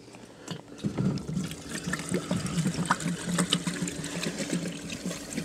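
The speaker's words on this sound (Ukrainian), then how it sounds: "Так, а я вже забув, як солярка заливається в бак." Diesel fuel pours into the tank of a T-40AM tractor, a steady gurgling, splashing flow close by that keeps going throughout without a pause, with no talk over it.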